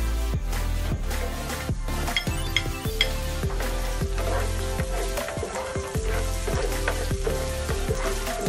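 Garlic frying in a pan for sarciado tilapia: steady, loud sizzling with the repeated clink and scrape of a utensil stirring against the pan, close up and without talk.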